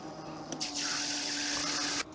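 Water runs from a Camplux Nano 3 Pro portable gas shower powered by a battery, a steady hiss of spray lasting about a second and a half before cutting off, quiet and close.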